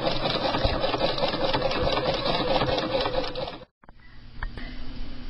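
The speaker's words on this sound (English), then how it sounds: "all set up and we're ready to sew our bridging stitch" A sewing machine sewing a bridging stitch with a guide, running as a steady close whirring hum, pausing briefly, then resuming more softly.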